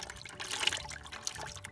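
Oil and water drain from a car engine's oil pan through a loosened drain plug, a faint, close, uneven trickle and dribble of liquid lasting under two seconds.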